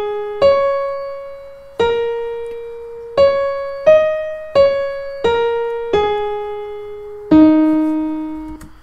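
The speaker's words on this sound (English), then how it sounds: "So as you can hear, it sounds pretty good when you just go on the black keys, as this melody here." A piano plays a slow major pentatonic melody on the black keys, seven distinct notes struck one after another with ringing decays, solo and clear with no talk.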